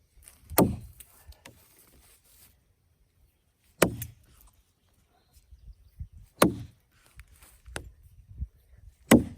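Husqvarna forest axe striking a log during bucking, four sharp heavy chops spaced a few seconds apart, each a crisp close impact with short woody decay, with quiet shuffling and handling noise between blows.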